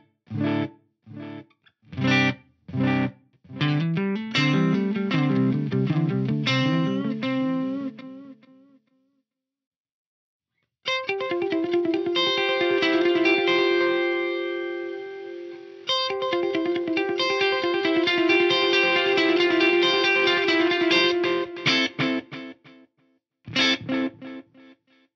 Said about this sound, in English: It's almost sounds like it's a really low quality digital delay in there